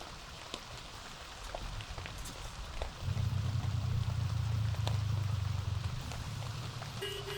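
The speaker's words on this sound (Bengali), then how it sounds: "মুষলধারে বৃষ্টি হচ্ছে কন্টিনিউয়াসলি" Heavy rain pours down continuously in a downpour. The broad, hissing wash of rain swells noticeably louder partway through and then holds steady, with a low rumble underneath and no voices.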